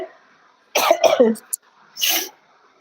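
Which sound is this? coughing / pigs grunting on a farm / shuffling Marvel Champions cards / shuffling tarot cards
coughing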